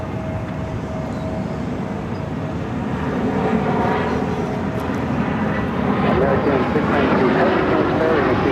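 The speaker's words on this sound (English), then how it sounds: "I believe this flight is a 787-8 Dreamliner heading to Honolulu." Boeing 787-8 Dreamliner jet bound for Honolulu taking off from Phoenix airport, a broad steady engine roar that swells gradually, with faint radio chatter mixed in.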